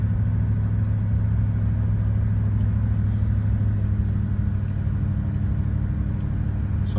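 Low-geared vehicle engine held on the throttle while descending a steep hill on Mount Borah, a steady loud low rumble and drone with no change in pace, close and alone.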